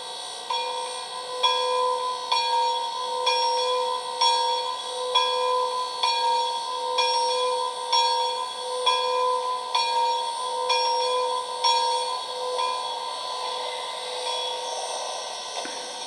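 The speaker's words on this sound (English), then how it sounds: "Number one is bell." Bell from a sound decoder fitted in a PROTO 2000 0-8-0 model steam locomotive, a steady ringing clang repeating about every two-thirds of a second, clear and close with no talk over it.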